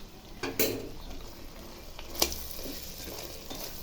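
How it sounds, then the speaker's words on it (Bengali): Food sizzles steadily in a pan while a utensil scrapes and clacks against it in a few distinct strokes. "দিয়ে ভালোভাবে নেড়ে চেড়ে"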